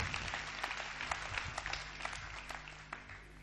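An audience claps at a Hindi comedy and poetry recital, a scattered, moderate round of hands heard at some distance over a low hum.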